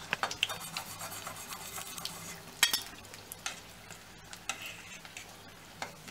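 Kheema mutton samosas fry in hot oil, a steady close sizzle and crackle with occasional sharper pops and light scraping of a utensil, no talking.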